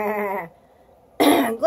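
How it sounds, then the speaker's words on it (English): A goat bleats twice up close, a wavering cry followed by a brief quiet gap and then a harsher, louder bleat with a short tail. "Goat."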